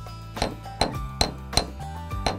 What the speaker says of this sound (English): I used a bench block and a frets planishing hammer to